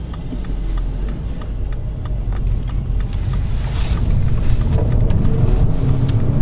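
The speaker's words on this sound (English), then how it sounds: "Let this big lorry go." A big lorry drives past on the road, its low engine rumble and tyre roar building steadily as it draws nearer, with gusts of wind buffeting the microphone.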